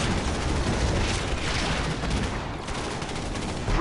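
Hammerhead gunship gunfire in Command & Conquer 3: Kane's Wrath pours out as a continuous, dense, rapid barrage that stays loud and steady throughout with no pauses.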